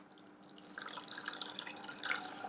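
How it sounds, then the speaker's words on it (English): Water trickles and splashes into a pot at a kitchen stove, a soft, continuous pour heard close and fairly quiet. "And then I'm going to add in about 300 milliliters of the water."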